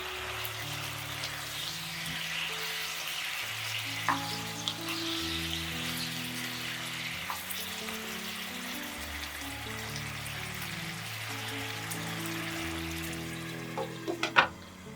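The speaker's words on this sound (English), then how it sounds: "we will cook the chicken wings for another 3 to 4 minutes on low medium flame" Chicken wings sizzle faintly in a pan over a low-medium flame, a soft steady crackle beneath quiet background music, with a couple of sharper clinks near the end.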